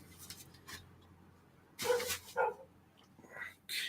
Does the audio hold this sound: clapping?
no